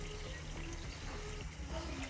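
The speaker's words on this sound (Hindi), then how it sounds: "पानी और ऐड करूँगी" Water pours into a cooking pot for tamarind and plum sharbat, a soft continuous splashing trickle over a low hum, faint and steady for about two seconds.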